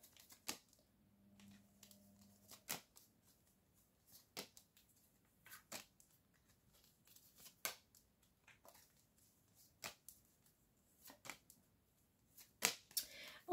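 Tarot cards are shuffled and dealt one by one, giving sparse, crisp snaps and flicks at irregular intervals against near silence, with a brief faint hum early on.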